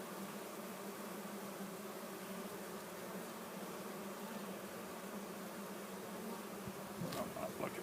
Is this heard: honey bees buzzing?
yes